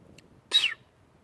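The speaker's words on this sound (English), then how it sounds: "She's in there chirping." A pet bird gives a single short, faint chirp from a little distance, briefly breaking an otherwise quiet room.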